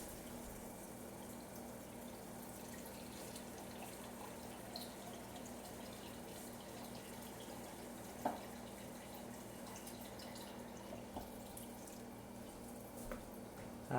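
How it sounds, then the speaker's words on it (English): Water runs steadily into a pot on a stovetop for a stretch of seconds, a continuous even pour with a couple of faint knocks, close by and fairly quiet. "So I'm going to get about 2 cups of water in here."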